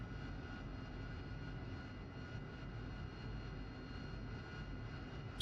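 Jet aircraft engine in the DCS flight simulator, a steady loud broadband roar that holds evenly throughout without any talk over it.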